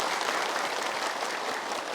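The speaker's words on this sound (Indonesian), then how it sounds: "Boleh tepuk tangan." A studio audience at a televised religious talk show claps steadily throughout, an even wash of applause heard at modest volume with no voices over it.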